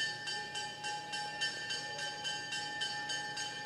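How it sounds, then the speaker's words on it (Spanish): Auction bell rings with rapid, evenly spaced metallic strikes, a steady bright clanging that carries on without pause and with no voices over it. "esa campana que estáis sonando es la nuestra"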